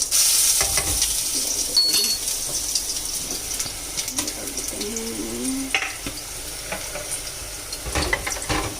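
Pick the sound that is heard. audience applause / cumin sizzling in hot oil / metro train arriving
cumin sizzling in hot oil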